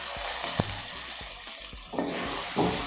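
Brinjal frying in hot oil with softened tomato as a base for fish curry, giving a steady close sizzle and hiss with a few soft stirring knocks throughout.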